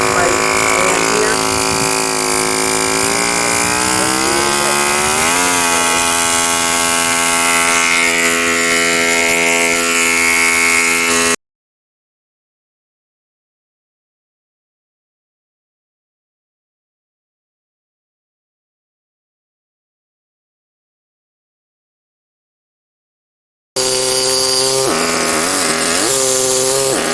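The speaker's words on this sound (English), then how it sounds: "when I do the cutting, I always have to have something touching the stone" A power tool grinds into marble during sculpting, a loud steady whine with shifting pitch as it bites the stone, cutting out abruptly to silence for a long stretch before resuming at full volume.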